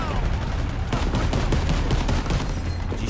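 Rapid bursts of gunfire in the video game Call of Duty: WWII crackle continuously over a dense, busy background, with shots overlapping in quick succession.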